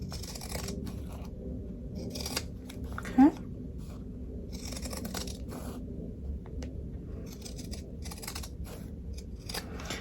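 Scissors make intermittent snipping cuts through material, spaced irregularly, with a brief squeak partway through over a quiet room tone.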